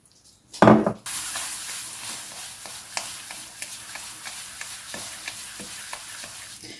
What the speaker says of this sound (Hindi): अच्छे तरीके से हम इसको हिलाएंगे